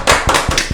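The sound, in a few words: applause from the audience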